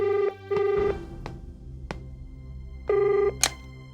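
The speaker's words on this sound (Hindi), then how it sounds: "आपका फोन।" A telephone rings in a scene from a Hindi TV serial, with three short electronic ring bursts. Two come close together at the start and one follows after a quieter pause with a few clicks and knocks.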